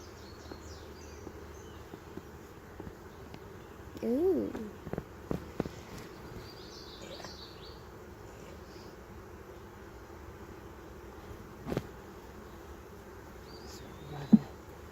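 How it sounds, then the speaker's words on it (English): Honey bees hum in the bottom box of a hive during a walk-away split, a faint low steady drone throughout, with a brief voice exclamation and a few small knocks. "Got lots of bees down in the bottom box."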